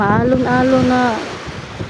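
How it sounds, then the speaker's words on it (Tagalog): Choppy midday sea rolls and washes around a boat with steady wind rushing over the microphone, while a voice talks in the first half over the constant surf. "maalon-alon na tanghali guys"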